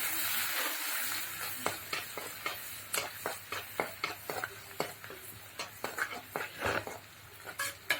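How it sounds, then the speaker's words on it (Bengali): Onion, garlic and dried chilies frying in oil in a pan on a home stove, a steady sizzle broken by frequent clinks and scrapes of a utensil stirring against the pot. "আমি এই যে তেলে দেওয়ার জন্য পেঁয়াজ রসুন আর শুকনো ঝাল দিয়ে দিলাম চুলার উপরে"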